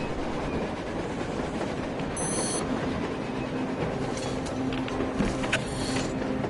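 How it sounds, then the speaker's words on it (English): Train rolling across the surface in the video game Metro Exodus, a steady rumbling rail noise with faint clicks and a brief high whine, heard at a distance under constant hiss. "A train! A damn train on the surface!"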